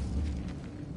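A short, muffled low boom from a Bombarda blasting spell in Hogwarts Legacy, one soft, heavy burst that fades quickly.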